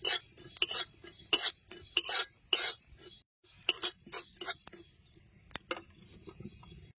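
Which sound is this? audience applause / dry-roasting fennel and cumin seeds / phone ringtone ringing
dry-roasting fennel and cumin seeds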